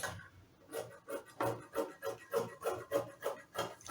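Fabric for a blouse band is cut out in a quick run of rhythmic rasping strokes, close and fairly quiet, with no speech.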